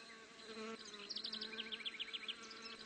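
Asian hornets (Vespa velutina) hover near a beehive, their faint buzzing wings producing a steady drone with rising and falling whines as they fly close by.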